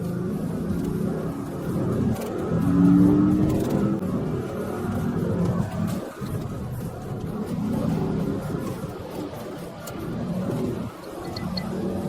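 A police car engine and road roar surge in a high-speed chase at about 70 miles per hour, loud and continuous with gusting rumble and no speech.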